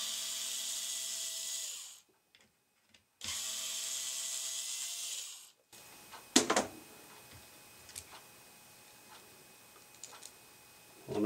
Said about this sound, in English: We gotta take some screws out here to get our cord out.